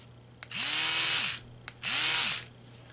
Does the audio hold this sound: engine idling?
no